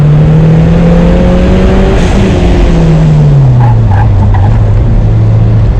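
A Porsche accelerating on a race track, heard from inside the car: a loud, close engine drone that rises, drops at a shift and then sags in pitch over heavy road and wind roar, with faint chirps near the end.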